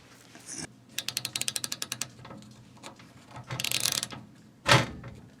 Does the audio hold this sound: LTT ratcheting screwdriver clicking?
yes